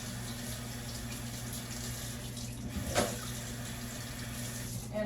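A kitchen tap runs steadily as a utensil is rinsed beneath it after cooking gravy, a constant close hiss of water with a brief splash partway through and no talking.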